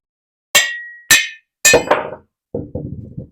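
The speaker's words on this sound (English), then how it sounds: "basically what we do here is I just take a hammer" Several sharp metallic hammer strikes on a VEVOR 3-ton manual arbor press ring out, a couple spaced apart and then a quicker cluster of duller clanks, loud and close with no talking.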